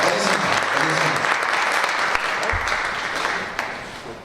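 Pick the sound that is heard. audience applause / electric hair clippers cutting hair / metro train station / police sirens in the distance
audience applause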